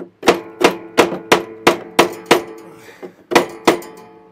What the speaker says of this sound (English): Get your little tiny toffee hammer, rest it up like that